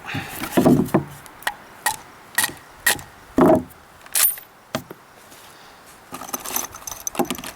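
The bolt of an M1916 Spanish Mauser rifle chambered in .308 is worked repeatedly, giving sharp, close metallic clacks and rattles in an irregular sequence with short pauses between strokes.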